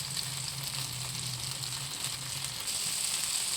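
Fish frying and sizzling on a tawa in village cooking, a steady close hiss of hot oil with a faint low hum beneath, continuous and unbroken from start to finish.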